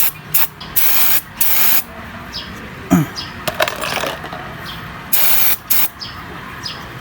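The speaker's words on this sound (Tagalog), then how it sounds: "linisan na naman natin ang gamit yung ito, yung brake cleaner natin" Brake cleaner hisses out of an aerosol can in several short and longer bursts, close and loud, aimed at the front brake caliper of a Honda Click 125 V3 scooter, with small metallic clicks between sprays.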